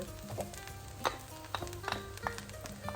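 Fried rice with canned corn sizzles in a pan as it is stir-fried, with a steady quiet hiss broken by scattered scraping and clinking taps of the utensil against the pan.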